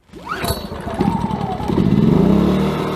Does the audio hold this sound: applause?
no